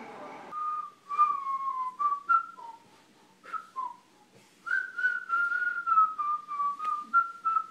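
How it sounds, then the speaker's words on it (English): A man whistles a carnival tune close by, a wavering melody of sustained and sliding notes broken by short pauses, with no talk. "he constantly was whistling this stupid carnival song"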